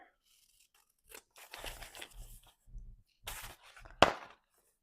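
Scissors trimming washi sticker paper, heard as a few short, close snipping and crunching bursts separated by silence, with one sharp loud snip near the end.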